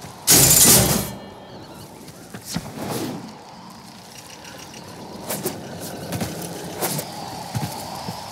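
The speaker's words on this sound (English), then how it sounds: "Excavator destroyed" An excavator is destroyed in the sci-fi game Warframe on Mars, opening with a loud shattering crash that fades into scattered lighter mechanical clanks and thuds.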